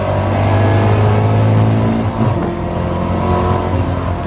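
A Caterham Academy race car engine drones loud and close, its pitch dropping sharply as a quick gear shift cuts in midway before pulling steadily again.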